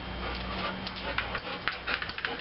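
A pet dog scratches its ear, giving scraping, rubbing scuffs that pick up into quick irregular bursts toward the end, close by with a faint background hum.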